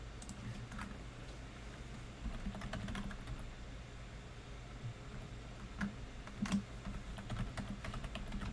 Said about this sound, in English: this Logitech keyboard is so shit